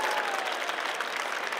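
A packed audience at the Slush 2022 Founder Stage applauds and cheers ahead of the final winners announcement, a dense, steady burst of clapping with a few whoops.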